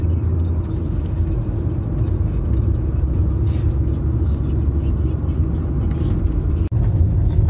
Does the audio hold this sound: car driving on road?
yes